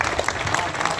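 Brief burst of audience applause at a Hindi poetry gathering, a short dense patter of many hands clapping together.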